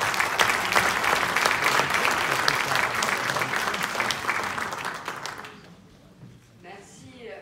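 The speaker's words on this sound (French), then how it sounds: "Je voudrais qu'on la remercie et qu'on l'applaudisse fort." Loud, dense applause from a large audience at an international conference in Paris, steady for about five seconds and then fading quickly to near silence.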